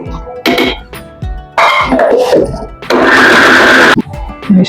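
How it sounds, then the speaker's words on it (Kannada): A kitchen mixer grinder runs in several short, loud bursts as it grinds soaked tamarind for fish curry, with a harsh whirring whine between brief pauses. "ಅದನ್ನು ಮಿಕ್ಸಿಗೆ ಹಾಕೊಂಡು"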